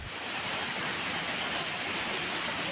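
Floodwater rushes across a flooded highway in Davao City during heavy rain, a steady, dense, loud roar of flowing water with no speech.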